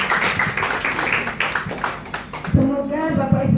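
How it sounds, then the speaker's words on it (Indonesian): Applause breaks out for a teacher candidate at a school presentation event in Surabaya, a dense patter of clapping that fills the room before a voice begins speaking near the end. "Tepuk tangannya untuk Bu Evi"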